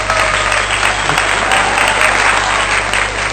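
A seated audience at a talk or sermon breaks into steady, loud applause that continues evenly throughout, with a constant low hum underneath.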